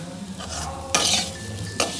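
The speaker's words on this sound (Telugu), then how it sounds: "ఇలా సిమ్లోనే ఫ్రై చేసేసుకోవాలి." Bitter gourd slices sizzle in hot oil with curry leaves as a spatula stirs them through the pan, steady frying hiss broken by two sharp scraping bursts, close and fairly loud.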